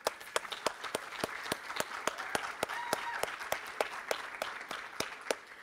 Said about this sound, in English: a round of applause, if you'll join me